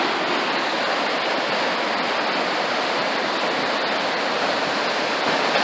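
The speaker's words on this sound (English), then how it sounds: "Now those are some rapids right there, buddy." River rapids on the Trinity River rush in a loud, unbroken roar of churning water, close by and steady for the whole stretch, with no voices over it.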